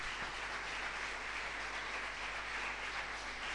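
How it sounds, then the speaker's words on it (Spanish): A church congregation applauding together, a dense, steady wash of clapping that holds at an even level throughout, heard at some distance and without voices over it. "Denle un fuerte aplauso a Dios"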